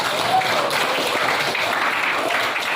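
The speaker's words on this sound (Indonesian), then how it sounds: "Mari kita beri aplaus dulu untuk teman kita" Brief burst of dense clapping from a class of students applauding a classmates' group, close and loud, steady for its short length.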